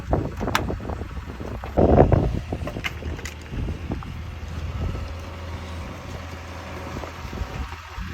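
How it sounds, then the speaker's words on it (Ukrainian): Strong wind buffeting the microphone beside a truck being loaded with firewood, gusty, rumbling roars that swell and ease, loudest early on, with no talking. "вітер дуже сильний."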